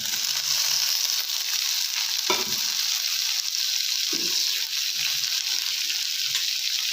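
Tomatoes sizzle in a pan of green peas curry (matar masala) base, a steady close frying hiss with a couple of brief stirring clatters and no talk.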